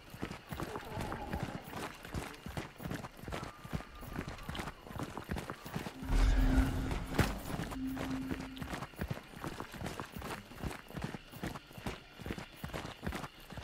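Horse hooves clip-clop at a running pace in the video game Hunt: Showdown, a steady rapid patter throughout, with a louder burst of rustling and a brief tonal snort or whinny midway.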